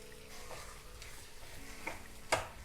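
Spices and mushrooms scrape and sizzle softly in a pan as they are stirred and roasted for mushroom do pyaza, with quiet clinks of the spoon.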